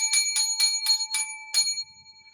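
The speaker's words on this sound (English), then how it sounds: "7 lucky bells for the show." Seven small bells ring out one after another, five evenly spaced bright metallic dings followed by a slightly delayed last one. The strikes are loud and close, and the pure ringing tones linger faintly between them.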